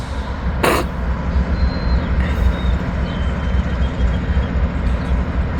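A work train rolls past close to a railroad crossing, a steady low rumble of heavy rail cars running throughout with a brief loud burst early on, no horn sounding.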